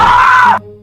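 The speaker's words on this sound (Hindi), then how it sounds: "फिर से किसी के चीखने की आवाज़ आती है।" A loud, sustained scream in a horror cartoon, a single high cry held for about half a second before cutting off sharply.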